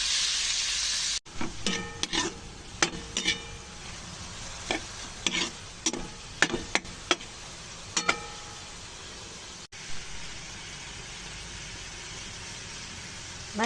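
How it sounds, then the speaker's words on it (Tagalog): Meat stirred into sautéed garlic and onion in a hot pan for dinuguan with sayote, with repeated scraping strokes over a steady sizzle and no talking. "At i-mix na."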